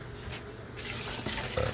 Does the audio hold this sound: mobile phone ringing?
no